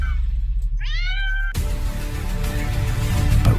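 A cartoon baby blue cat gives a single loud, rising meow, then is swallowed by a sudden roaring burst of storm wind and rain that continues loudly to the end.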